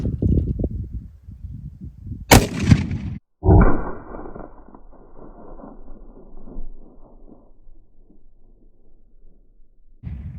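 A .50 BMG rifle round is fired at a termite mound outdoors, giving a sharp loud crack followed by a second heavy boom and a long rolling rumble that slowly fades.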